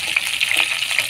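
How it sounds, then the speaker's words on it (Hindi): Half-cooked chicken pieces fry in hot oil in a pan, giving a steady close sizzle with frequent small crackling pops throughout. "देखिए मेरा चिकन जो है फ्राई हो चुका है आधा"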